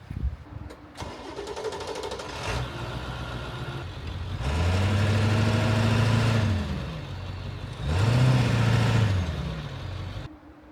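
A bus stuck in sand has its engine started, then revved hard twice in long rising-and-falling surges, loud and close, with rough mechanical noise between the revs.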